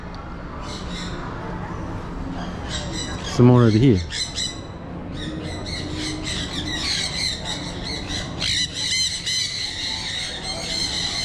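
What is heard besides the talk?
parrots squawking at a bus station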